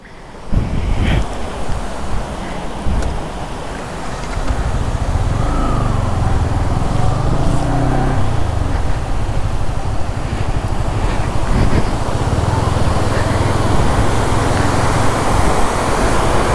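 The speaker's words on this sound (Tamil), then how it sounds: "தண்ணி எவ்வளோ ஃபோர்ஸாக போகுது பாருங்கள், அப்படியே செம்ம ஃபோர்ஸாக போகுது" Monsoon-swollen Mallalli Falls in the Western Ghats of Coorg roars as a loud, continuous broadband rush of water, mixed with buffeting wind noise against the microphone.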